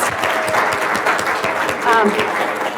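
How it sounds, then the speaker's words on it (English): A room full of people clapping steadily, a warm wash of applause with a few voices mixed in. "I'm going to give all of our spokespersons a round of applause."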